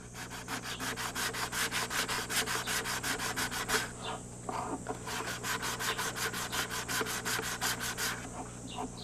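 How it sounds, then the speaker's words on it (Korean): Sandpaper rubs wood in quick, even back-and-forth strokes, pausing briefly midway before the rhythmic scraping resumes, close and clear. "사포를 이용해서 몸체 표면을 매끄럽게 다듬는다"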